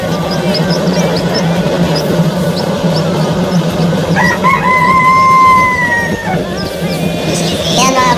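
Newly hatched chicks and chickens inside an egg incubator hatcher, with repeated high peeping and a clear rooster-like crow over a steady machine hum. The sound is close and loud throughout.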